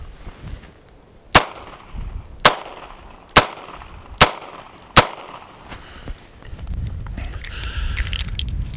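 Five sharp, loud revolver shots from a 2-inch snubnose fired one-handed, spaced roughly a second apart, followed by quieter handling noise and rustling.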